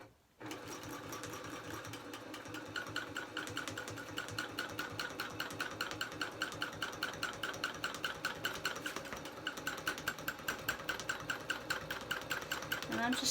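Domestic sewing machine stitching long basting stitches across a quilt on a small quilting frame, a steady close mechanical whir with rapid rhythmic needle ticks running continuously from start to finish.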